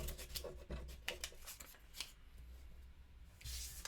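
Cards from the Cave In board game are shuffled by hand in a run of quick riffling, rubbing flurries, close and soft, with brief gaps between bursts.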